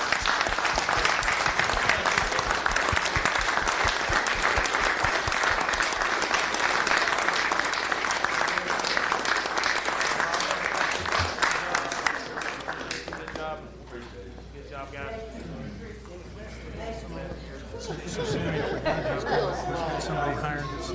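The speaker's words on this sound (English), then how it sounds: "How about a round of applause for this group?" Steady, dense applause for long-serving employees at a city commission meeting in Rome, Georgia, clapping strongly for about twelve seconds before fading into scattered claps, murmured chatter and a few chuckles in the room.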